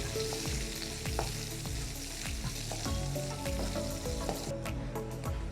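Cashews and raisins fry in hot ghee with a steady, dense sizzle that runs for the whole stretch, broken by soft clicks and scrapes of stirring; no one speaks.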